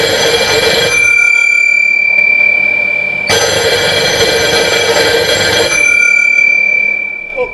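Telephone ringing at close range in a household drama scene, a steady electronic ring with a short pause near three seconds before resuming, loud and alone with no talk over it.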